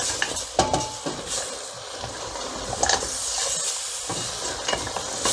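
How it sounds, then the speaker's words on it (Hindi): Sheep trotters and whole spices, including garam masala and cinnamon stick, sizzle on high flame for paya while a spoon scrapes and clanks against the pot in a busy, loud, continuous frying sound. "हाई फ्लेम पे अच्छी तरीके से इसे भूनें।"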